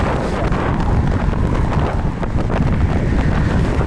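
Strong wind buffets the microphone while cycling through a city on a rainy trip, giving a loud, constant roaring rush with gusty fluctuations and no voices.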